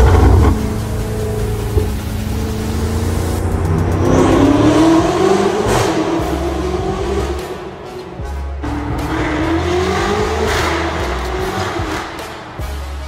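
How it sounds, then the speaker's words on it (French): A BMW M5 First Edition, stage 2 tuned to over 750 hp with a full straight-pipe exhaust, revs loud and close in repeated rising and falling pulls, with a raw, booming tone and crackles between revs. "M5, First Edition, le bruit est dingue."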